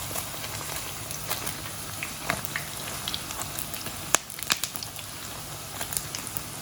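Belida fish cake frying in hot oil gives a soft, steady sizzle with scattered small pops and crackles, moderately quiet and continuous with no voices.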